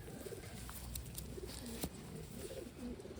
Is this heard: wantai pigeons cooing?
yes